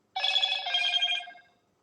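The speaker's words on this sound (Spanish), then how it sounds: "el teléfono sigue sonando" A telephone bell rings in one continuous, bright metallic trill lasting just over a second, then fades out, alone and moderately loud.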